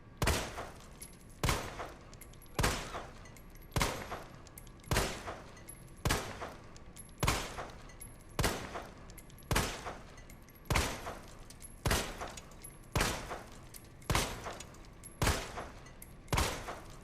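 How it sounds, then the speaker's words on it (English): Samurai Edge handgun shots in the Resident Evil 2 Remake video game fire at a slow, steady pace, about sixteen sharp single reports roughly one second apart, each loud and close with a short ringing tail. "Now for the second test. Shooting it a tad bit slow."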